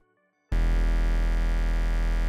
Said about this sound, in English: so we want more distortion on the low side of things